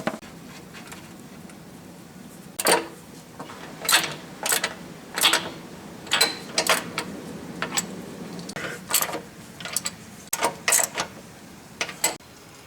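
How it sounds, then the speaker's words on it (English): Riser nuts are locked beneath the table of a Yates American B244 woodworking machine, heard as a string of sharp metallic clicks and wrench taps with short pauses between them, close and moderately loud with no talking. "So we'll go back down below and lock the riser nuts."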